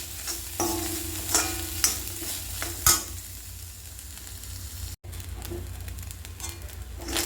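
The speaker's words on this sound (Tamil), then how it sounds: "இது நல்லா வதங்கி வரட்டும்." Dried anchovies with coconut, salt and tamarind sautéing in a pan, a quiet steady sizzle broken by a few scraping stirs of a spoon near the start.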